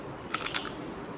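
Crisp papadam being bitten and crunched beside a biryani meal, with a few close, sharp crackling snaps in quick succession lasting under a second.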